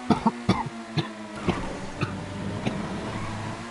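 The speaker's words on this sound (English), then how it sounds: "Sorry for the cough." A few sharp coughs from a commentator calling a Vortex 1v1 game final, a quick cluster of bursts at the start and then fainter, scattered ones, close to the mic over faint background hum.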